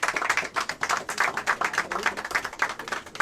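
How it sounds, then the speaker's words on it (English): A seated audience applauds a lead investigator at an anti-corruption event, with dense, steady hand clapping throughout, near and fairly loud, and no talking over it. "Please clap for her."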